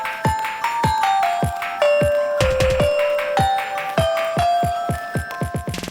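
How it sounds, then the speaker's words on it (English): Bells chime through corridors in Switzerland in a descending and rising run of bright, ringing tones, struck in quick succession with a resonant hum lingering beneath. "even the sound of bells ringing through the corridors."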